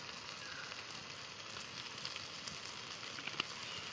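Mustard oil sizzling in a pan around fish paturi wrapped in leaves: a faint, even crackling hiss that runs steadily throughout, with an occasional small pop.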